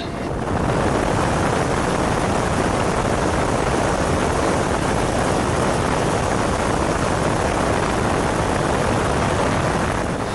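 A rescue helicopter over Kerala flood waters roars loud and close, a constant broadband rotor and engine wash that fills the whole stretch without a break.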